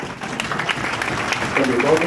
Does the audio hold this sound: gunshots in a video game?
no